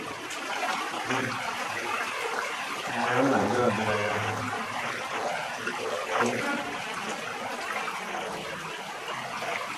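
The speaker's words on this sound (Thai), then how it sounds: "มีน้ำไหลตลอดเวลานะ" Water flows constantly over the floor of a cave, a steady broadband rushing and trickling that swells midway, with a voice faintly audible beneath it.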